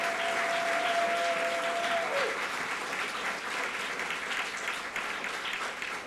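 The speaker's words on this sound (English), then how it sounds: "I believe in wild, thunderous applause, please, for that message and that spirit." Thunderous audience applause at DeKalb County's 41st annual MLK celebration, a dense, sustained crowd clapping at even loudness, with a brief tonal whine passing through early on.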